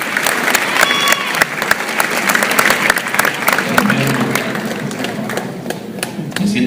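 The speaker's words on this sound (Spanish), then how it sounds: "Denle un aplauso a este grupo hermoso, hermano" Audience applause for a church worship group, steady dense clapping mixed with crowd noise and some voices, fairly close and sustained throughout.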